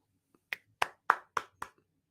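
Five sharp hand claps in a steady, evenly spaced run, close and distinct, with silence before and after.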